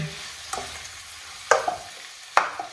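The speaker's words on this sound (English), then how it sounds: "Now they're frying off quite nicely." Chanterelle mushrooms frying in a pan, a low steady sizzle with a few sharp stirring scrapes and clicks at intervals, close up and without talk.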